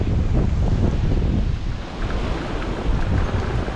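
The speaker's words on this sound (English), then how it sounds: "It seems like the wind is just always so much faster out here by these windmills than what's predicted." Strong wind roars steadily across an open outdoor spot near windmills, a loud, continuous buffeting rush hitting the microphone with gusts swelling and dipping throughout.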